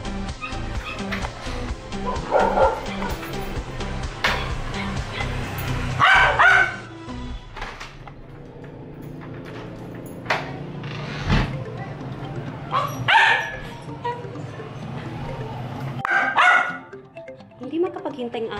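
A pet dog, impatient to go outside, barks in short yips and whimpers repeatedly at close range while a person talks to it throughout.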